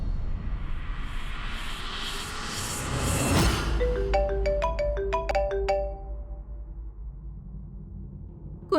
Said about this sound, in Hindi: कुंज के कॉल?